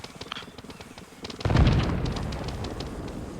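A demolition charge goes off during a military field training exercise: a single loud, deep boom that rolls into a long rumbling decay, preceded by faint scattered clicks and ambient noise.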